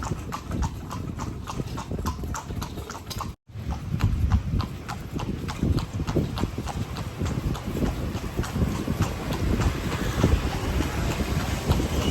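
A Lampang horse-drawn carriage rolls along by the Wang River, its horse's hooves clopping in a steady close rhythm for several seconds under faint wind noise, with one brief gap.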